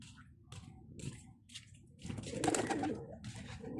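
Pigeons coo in short repeated phrases close by, a soft rhythmic cooing with some shuffling underneath that swells louder toward the end, with no talk.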